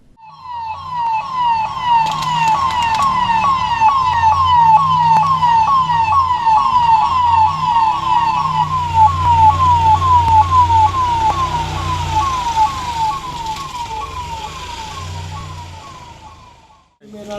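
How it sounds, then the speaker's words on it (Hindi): A new ambulance being flagged off at an inauguration in Chhindwara, its siren wailing in a fast repeating sweep, loud and close for the full stretch with engine rumble and crowd voices underneath. "एडीएम ओम प्रकाश तनोडिया ने भी एम्बुलेंस को हरी झंडी दिखाकर रवाना किया।"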